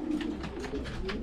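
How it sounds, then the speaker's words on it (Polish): Racing pigeons back from a race flight, cooing softly at close range: a few quiet, throaty coo notes in quick succession. "Gołębie pierwsze już są,"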